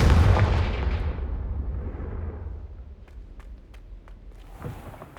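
A Confringo blasting spell in Hogwarts Legacy erupts in a loud, booming explosion that rumbles and fades over several seconds, followed by faint scattered crackles and a small pop near the end.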